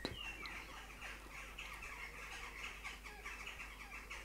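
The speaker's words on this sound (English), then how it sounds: "Can you hear the crows outside my home?" Several crows squawk and caw outside a home, the calls repeating irregularly at moderate distance over a steady background hiss, with no talking.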